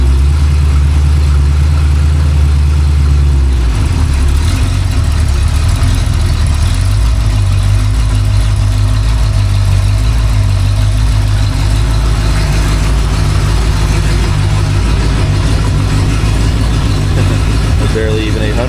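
A rebuilt Ford 289 V8 idles steadily on a home-made engine stand, running rich at a low, rumbling idle around 800 RPM, loud and continuous throughout with a slight shift in tone partway through.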